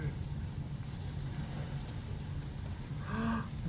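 Heavy rain falls in Dubai during a flood, making a steady, dense hiss. Near the end a brief voice sounds over the rain.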